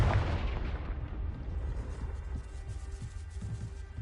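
A fire spell cast in the video game Hogwarts Legacy: a loud roaring burst that opens with a heavy low rumble and then settles into a sustained crackling whoosh.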